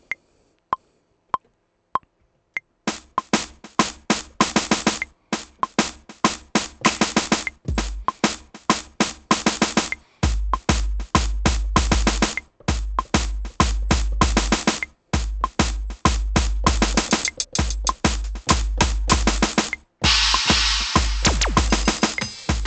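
A drum fill break pattern is programmed with note repeat on a Maschine groovebox: sparse hits at first, then rapid, dense syncopated drum strikes with deep kicks that run on loud and continuous, with short gaps between phrases.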